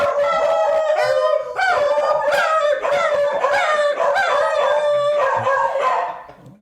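A pet dog howls and yips in long, wavering, melodic cries, loud and close, with brief breaks between drawn-out wails and no talking over it.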